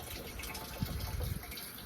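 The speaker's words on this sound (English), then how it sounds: "You just scoop up water in it" River water is scooped into a filter container, giving a quiet slosh and short trickling splash outdoors, about half a second long, over low background hiss.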